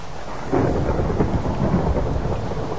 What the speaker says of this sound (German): Es tut mir aber jetzt leid, dass es regnet.